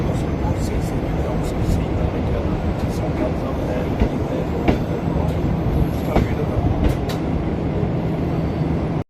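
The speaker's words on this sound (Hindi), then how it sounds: "शालीमार 28 डाउन एक्सप्रेस 12 मिनट पहले चलकर साहिवाल रेलवे स्टेशन पर पहुंची है।" The Shalimar Express train at Sahiwal railway station in Pakistan makes a steady, loud rumble, with faint clicks and squeals on top, while someone talks over it throughout.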